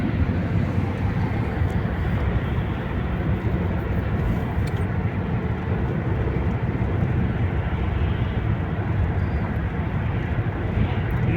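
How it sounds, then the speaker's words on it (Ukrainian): An airplane flying in to land near Warsaw, heard from a car on the road, gives a continuous broad roar that stays steady and loud under the vehicle noise, with no talking. "Так, да, полетів на посадку літак."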